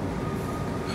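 A light rail (LRT) train runs in Palembang, heard as a steady, close, loud rumble of wheels and motor throughout with no talking.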